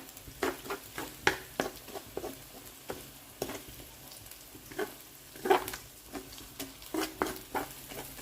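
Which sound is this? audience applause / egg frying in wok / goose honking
egg frying in wok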